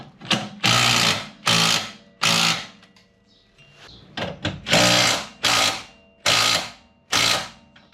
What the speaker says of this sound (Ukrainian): Можна навіть ось ці болти затягнути.